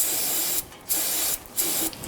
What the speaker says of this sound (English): take some spray solvent and spray the base side of the transmission here